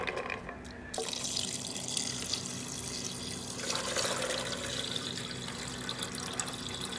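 Soaking water from chickpeas runs and splashes steadily into a sink for several seconds, a continuous close pouring sound with no voices.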